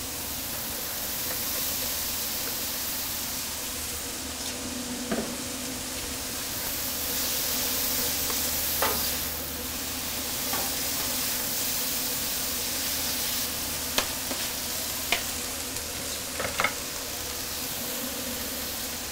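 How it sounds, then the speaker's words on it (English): Onions sizzle in a pan on a wood-fired Pit Boss grill, a steady close hiss of frying with occasional crackles and pops, no voices. "Now we're going to hit it with our onions"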